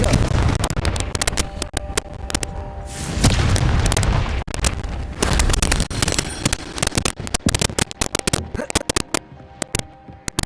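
Confringo fire blast spell in the video game Hogwarts Legacy: a long run of loud booming blasts and roaring rumble, followed by rapid crackling impacts, close and continuous with no voices.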